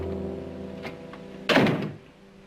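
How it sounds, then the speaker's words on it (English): A door thuds shut once in a quiet room, a single solid close-range knock following faint shuffling. "Close the door."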